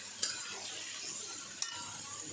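Crushed potatoes are mixed into sabudana khichdi with curry leaves in a pan, giving a soft low sizzle with two brief spoon knocks against the pan; no talk.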